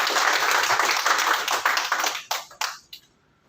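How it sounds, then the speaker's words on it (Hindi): Audience applause at a ceremony marking an organisation's foundation day, a dense burst of clapping that thins into a few scattered final claps and fades within a few seconds. "तो सर के लिए जोरदार ताली।"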